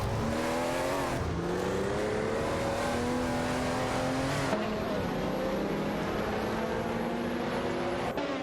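Several race cars battling for position in a racing video game, an Oldsmobile Cutlass SCA and a Nissan 306 Turbo IMSA among them, engines droning and revving steadily and loudly throughout, with pitch shifts as they accelerate and pass.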